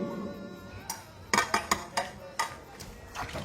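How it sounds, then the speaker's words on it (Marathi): Dishes are washed by hand with sharp clinks and clatters of pots and utensils in irregular bursts, some close and bright, over a faint background hum. "तिकडे घ्या भांडी घासून आता आणि काय ए पटपट धुवा"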